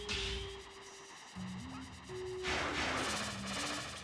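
A bursting explosion effect in Kirby and the Forgotten Land crackles amid rapid popping blasts and stepping tonal game music, moderately quiet and layered with other game sounds.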